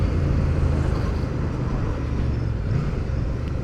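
A Royal Enfield Classic 650 twin-cylinder motorcycle being ridden, its engine a steady low drone mixed with heavy wind rush throughout, loud and unbroken.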